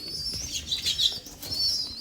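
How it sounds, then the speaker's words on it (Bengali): Jalali wild pigeons, a female and a male, move about with soft bird calls and chirps over a low hum, close and moderately loud for two seconds. "দুইটা কবুতরই কিন্তু মাশাআল্লাহ অনেক সুন্দর কোয়ালিটি"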